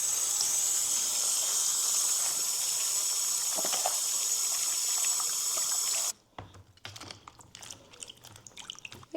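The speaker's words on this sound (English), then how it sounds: "So I am gonna throw all of my veggies in to give them a wash." Steady running water from a kitchen tap pours over vegetables being washed, a constant bright hiss for about six seconds that stops abruptly, followed by faint clinks and handling noises.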